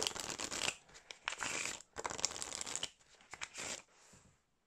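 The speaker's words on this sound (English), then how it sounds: "We'll give these a bit of a shuffle and see how they do" A USPCC Casual Playing Cards V2 deck is shuffled up close in several quick riffling bursts, with crisp papery flutters separated by brief pauses and no talking.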